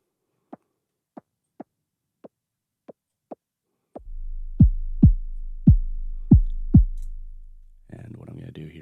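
Synthesized 808 kick drum heard through a high-pass filter: a steady run of six short, thin clicks, then five deeper thumping hits over a sustained low drone, ending in a burst of noisy distortion.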